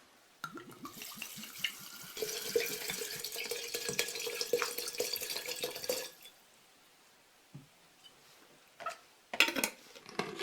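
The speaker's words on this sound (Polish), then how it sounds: "oraz wódkę i spirytus." Water, vodka and spirit poured into a jar of washed sweet cherries for a cherry liqueur, a steady splashing pour for about six seconds, then a few brief clinks and trickles.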